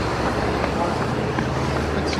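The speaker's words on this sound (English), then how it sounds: "We won't have to put up with the traffic noise for too long" Road traffic rumbles without letup nearby, a steady broadband roar of passing vehicles and wind with no clear breaks, with faint voices mixed in beneath it.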